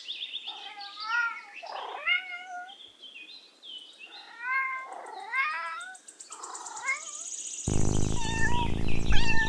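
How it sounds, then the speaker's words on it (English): A cat meows repeatedly up close, a run of short rising and falling cries with brief pauses, ending in a rougher, noisier burst of sound. "cat"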